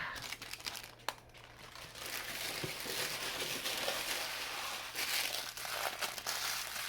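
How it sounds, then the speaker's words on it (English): Plastic packaging crinkled while a large box of fidget toys is opened, a continuous close crackling rustle lasting several seconds with a few sharper crunches. "A little crinkling for the ASMR fanatics."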